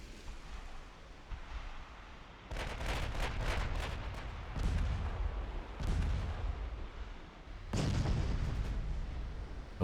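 Warship main guns fire in the naval video game Ultimate Admiral: Dreadnoughts: several heavy booming salvos, each a loud burst with rumbling decay, spaced irregularly over a few seconds against a low battle rumble.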